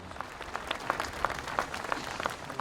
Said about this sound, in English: How about a round of applause for these great Americans?